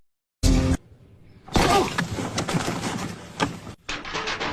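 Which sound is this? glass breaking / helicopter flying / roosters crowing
glass breaking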